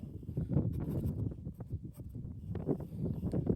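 Wind blows outdoors on Holy Island, buffeting the microphone with a steady, uneven low rumble and gusty swells throughout.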